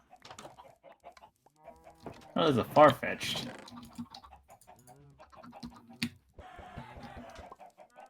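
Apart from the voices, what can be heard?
chickens clucking in the video game Minecraft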